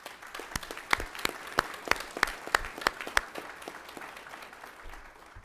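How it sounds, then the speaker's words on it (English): A crowd applauding steadily at a school district board meeting, with sharp individual claps standing out over a dense wash of hand-clapping for several seconds. "Let's give them a round of applause."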